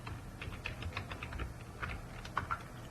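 Quick, soft keystrokes patter on a computer keyboard while Java SQL code is entered, an irregular close-up run of light clicks at low volume with no voices.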